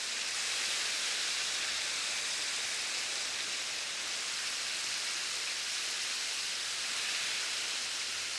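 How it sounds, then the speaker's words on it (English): Chicken pieces for soy and garlic Korean fried chicken fry in hot oil, giving a steady, dense hiss of frothing bubbles, close and unbroken throughout with no talking. "You do want quite a lot of that sort of frothing and bubbling"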